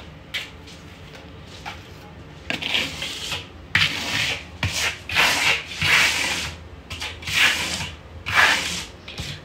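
Loft stucco being spread as a second coat with a trowel, giving repeated rasping scrapes in bursts of strokes, close and fairly quiet with short pauses between passes.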